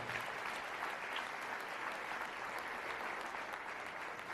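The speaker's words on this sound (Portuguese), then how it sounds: "Oh, vamos aplaudir o Senhor?" A church congregation applauds during a Portuguese-language worship service, a continuous even wash of many hands clapping at steady loudness with no break.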